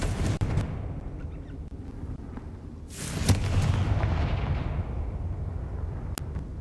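A Confringo fire spell blast in a Harry Potter video game, a deep booming burst that swells and rumbles, followed by a sustained low roar.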